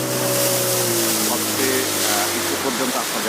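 Small passenger launch boat at a river ghat in Patuakhali, Bangladesh, its engine droning loud and steady with a broadband wash of water noise, running continuously throughout.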